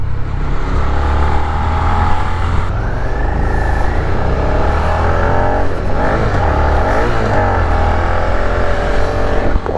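Troubled motor vehicle engine revving hard and close, loud and continuous, with pitch surging up and down in uneven waves for the whole stretch.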